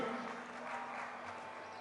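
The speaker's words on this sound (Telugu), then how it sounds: "నాద నీరాజనంలో కూడా క్లాప్స్ కొడుతున్నారు, చాలా సంతోషం." Audience applause at an Annamayya sankeerthana devotional concert, a soft, steady spread of clapping heard at a distance with a faint hum beneath.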